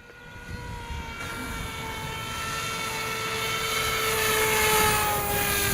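A Lidl foam glider converted to remote control flies nearby, giving a steady motor whine that slowly rises in pitch and loudness over several seconds, with no talking.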